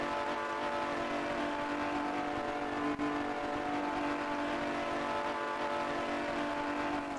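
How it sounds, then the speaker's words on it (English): A 1940s Grand Prix race car at the Bremgarten circuit in Switzerland, heard as a steady high engine drone held at speed, loud and continuous with a brief dip partway through. "It would be very unwelcome to see that lead car fire past"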